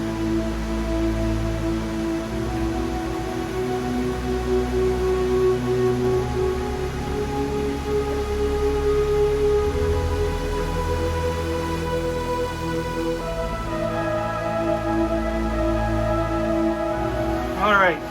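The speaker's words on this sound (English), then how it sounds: "sorry about the fan noise, but it's hot." An electric fan runs in a hot car restoration workshop during Triumph Spitfire sill work, giving a steady whirring hum with a tonal drone that continues unchanged and close throughout.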